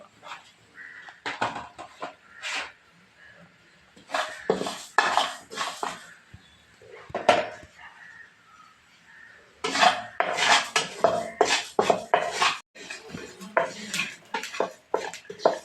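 Carom seeds and spices are roasted in a pan, with intermittent clattering of a utensil against the pan and metal scraping in bursts, separated by quieter pauses.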